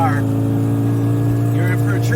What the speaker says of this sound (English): This little Mini scoots.